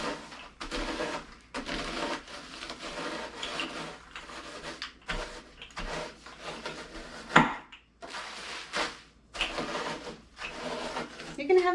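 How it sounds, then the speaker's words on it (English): A rolling pin crushes Skor candy bars into fine crumbs inside a bag, giving repeated rubbing, crackling passes in a steady rhythm with brief pauses, close and moderately loud. "So we're gonna start rolling these out in the bag."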